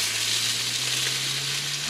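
Sausages, bacon and tomatoes fry on a caravan hot plate, a steady close hiss and sizzle over a low constant hum, with no talking.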